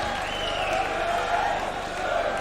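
A boxing crowd at the Wembley Conference Centre on their feet applauding after a 1996 championship bout, with steady, dense clapping and cheering that holds at an even, distant level throughout.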